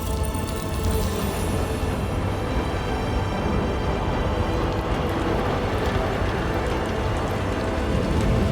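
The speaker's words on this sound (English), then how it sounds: "She gonna bring the timefall rain." Steady rainfall in the video game Death Stranding 2, a dense, continuous broadband wash of drops heard alone and fairly loud throughout, with no voices over it.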